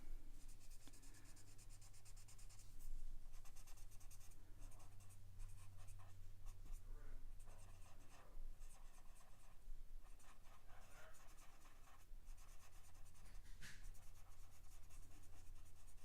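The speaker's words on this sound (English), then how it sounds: "We're trying out my new pencils. My Posca pencils." New Posca pencils scratch and rub steadily across paper while drawing, a close, continuous soft scraping with short strokes and pauses over a low steady hum.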